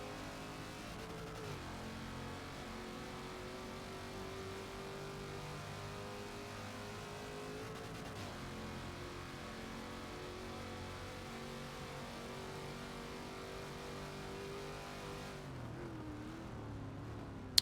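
Race car engines at Road Atlanta in Forza Motorsport 7 drone and whine in steady layered tones across a B-class race, rising and shifting slightly, fairly quiet throughout with a brief cut near the end.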